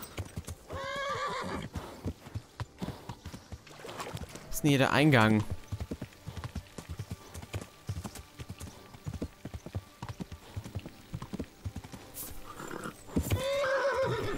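Horse hooves clip-clop steadily in the medieval role-playing game Kingdom Come: Deliverance, and a loud whinny rises midway and again near the end, while someone talks over much of it.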